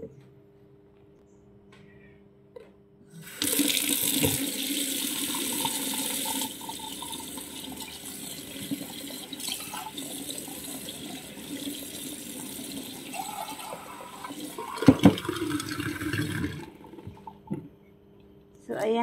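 Cold tap water runs steadily into a container for about thirteen seconds, a broad, even rush that starts abruptly and stops sharply near the end, with quiet before and after.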